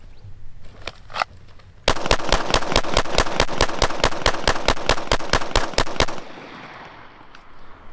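Rapid string of about twenty gunshots fired at an outdoor shooting range, evenly spaced, loud and close, preceded by a couple of isolated shots and followed by fading echo and quiet ambience.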